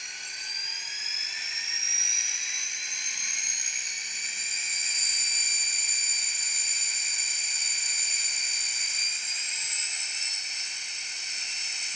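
A steady high-pitched whine with slowly shifting tones drones on continuously, like a small diesel locomotive's motor hum, fairly quiet and unbroken; from an N-scale ScaleTrains SD40-2 model diesel locomotive in Norfolk Southern livery.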